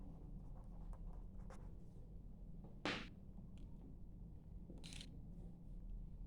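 A pen scratches across paper in short, quiet strokes, with soft taps and one louder rustle near the middle of a nearly silent room.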